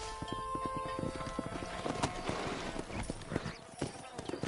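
Horse hooves clip-clop in Red Dead Redemption during a cattle-herding ride, a steady close rhythm of hoofbeats with a brief whinny-like sound mixed into the game soundscape.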